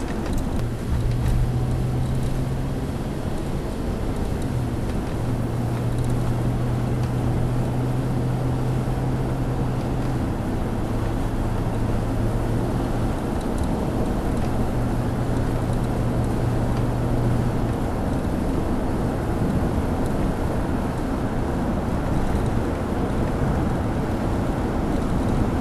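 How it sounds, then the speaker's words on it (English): Cabin of a 2001 Toyota Sequoia SUV cruising at 45 mph, a steady broad roar of wind and tire road noise with a low drone, continuous and fairly loud throughout, no talking. "That's 45 miles an hour, and honestly, the wind noise and road noise"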